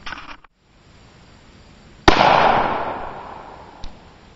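A 5.56 AR rifle with a 20-inch barrel fires once into a bowling ball, a sharp, loud, close crack followed by a long decaying echo, with a fainter pop near the end and no talk.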